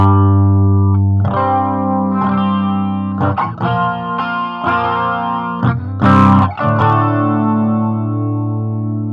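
An electric guitar played through a Line 6 Spider IV 15W amp with the chorus effect on, sustained chords and single notes with a shimmering, warbling tone, loud and close, with no talking.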